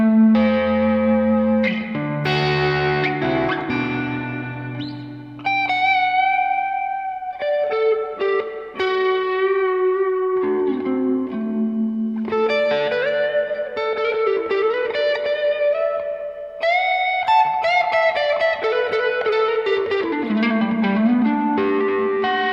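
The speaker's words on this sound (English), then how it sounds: "But here's the reverb." Guitar notes and chords ring out through a heavy reverb from a multi-effects unit, each phrase trailing into a long, spacious wash that lingers between notes.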